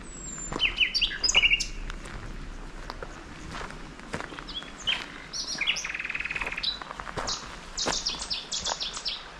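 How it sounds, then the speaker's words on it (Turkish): Birds chirp and tweet in quick high bursts outdoors beside Bayındır Stream near Kızılcahamam, Turkey, while footsteps crunch steadily along underneath throughout. "kuş sesleri"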